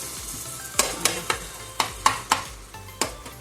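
Tomatoes for chicken biryani sautéed in a pan, with a spatula scraping and stirring in about eight sharp, evenly spaced strokes over a soft steady sizzle, close by and with no talking.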